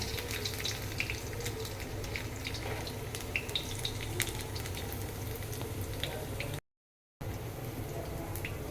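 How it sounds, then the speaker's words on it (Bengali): Dry chilli, nigella seeds and crushed garlic fry in hot oil as a tempering, giving a steady, soft sizzle with faint crackles throughout and no talking. "ফোড়নটা আমি ভাজা ভাজা করে নিলাম।"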